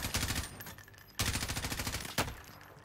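Rapid automatic gunfire in a video game, bursts of fast machine-gun shots separated by short pauses, loud and close, with a final short burst near the end and no talking.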